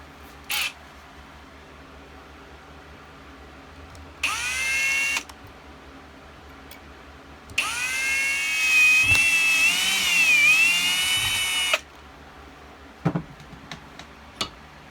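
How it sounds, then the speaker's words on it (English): Loud whining drill bursts from a hobby drill set working on a Jeep Wrangler RC rock crawler build part, two separate runs of several seconds each with short clicks and taps between them and no talk. "Using my Amazon hole punch and drill set."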